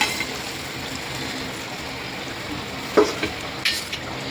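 Hot tempering is poured into curd for curd rice, producing a soft background hiss with a couple of brief sizzling bursts and light utensil clinks near the end, all fairly quiet and without speech.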